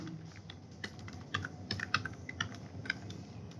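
Irregular keystrokes on a computer keyboard while Python code is typed, close and fairly soft, with short clustered taps and brief pauses in a quiet room.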